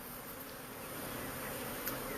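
Honeybees swarming around a hive outdoors, a dense steady buzzing drone of many insects, fairly faint and continuous with no talking.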